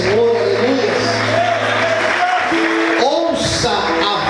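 A church congregation claps and cheers steadily during a worship service, a dense wash of applause heard under a preacher's voice.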